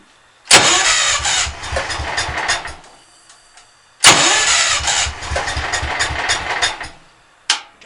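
A car engine cranks in two long rapid bursts of starter whirring, loud and close, each fading without a clean catch, then a third short attempt begins.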